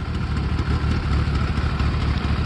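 A 1993 Yamaha GTS 1000 ABS fuel-injected motorcycle engine idles steadily nearby, a low, even, throbbing rumble with no voices.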